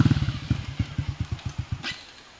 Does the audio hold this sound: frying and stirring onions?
no